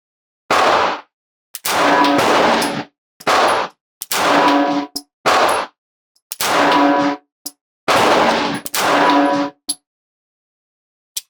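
Pistol shots from a CZ P-09 C Nocturne at target practice ring out loud and close, about ten sharp reports in uneven clusters with short silent gaps between them.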